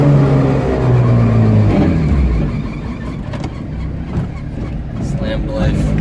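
Modified station wagon on stock springs cruising along, engine droning and whirring under road noise as it drives, with a voice talking over the steady motor sound.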